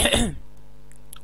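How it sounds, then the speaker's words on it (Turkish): A single short throat-clearing cough bursts out loudly at the start, followed by near silence with faint background tones. "Pardon arkadaşlar, öksürdüm."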